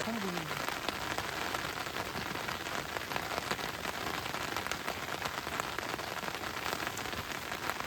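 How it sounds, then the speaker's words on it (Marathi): Heavy monsoon rain pours down steadily at a rain camping site, a dense continuous hiss of drops drumming on a surface with no letup. "पाऊस जोरदार आहे"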